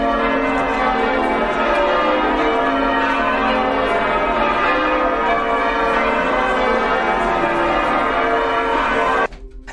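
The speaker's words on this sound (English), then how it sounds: "as church bells play a haunting melody." Church bells ring steadily in a sustained, resonant, haunting melody with overlapping tones, loud and continuous before cutting off abruptly at the end.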